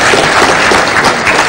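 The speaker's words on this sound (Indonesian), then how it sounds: "Tepuk tangan dulu untuk regu A." Applause for a competing team on an Indonesian televised quiz show, a loud, dense wash of studio audience clapping sustained throughout.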